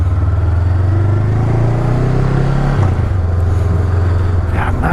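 A Honda CMX500 Rebel motorcycle, its engine derived from the CBR500, idles close by with a steady, deep, throbbing drone that shifts slightly midway and keeps running loud and unbroken throughout.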